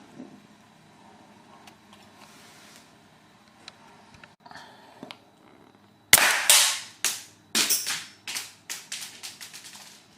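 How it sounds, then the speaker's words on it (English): A homemade marble toy gun fuelled with hairspray fires repeatedly, a sudden loud pop followed by a run of sharp cracks at uneven intervals, close up after quiet handling sounds. "Here's the shooting test. I've put in some hairspray."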